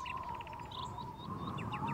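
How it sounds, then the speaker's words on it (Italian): Cartoon birds chirp in a garden in short, repeated tweets over a steady high tone, fairly soft and with no talking. "Guardate, gli uccelli sono tornati!"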